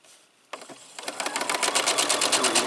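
Sewing machine running a straight stitch with a quarter-inch presser foot on fabric, a fast rhythmic clatter that starts and quickly speeds up into steady close stitching, with no talk.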